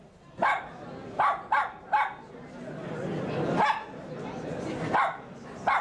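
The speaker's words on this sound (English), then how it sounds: "Good dog." A dog barks in short sharp bursts, four quick barks then more after a pause, close and loud, with a voice talking in the gaps during a news segment.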